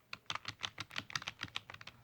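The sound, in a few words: typing clicks on JellyComb portable keyboard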